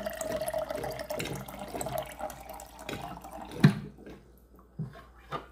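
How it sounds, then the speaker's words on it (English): Water pours from a Primo top-loading countertop dispenser into a container, a soft steady trickle for several seconds that tapers off into a few faint drips and small clicks. "you can see how easy the dispenser works"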